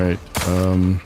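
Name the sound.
gunshot from a gun in the video game The Outer Worlds 2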